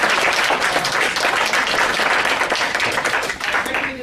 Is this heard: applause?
yes